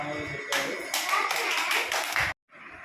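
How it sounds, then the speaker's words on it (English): Children clapping their hands in a classroom activity, a loud burst of scattered claps lasting about two seconds before stopping abruptly, followed by faint murmuring. "Claps."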